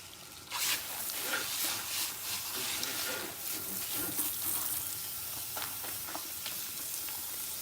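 Water runs steadily from a tap as hair is rinsed at a salon sink, a soft continuous hiss and splash with small irregular swells.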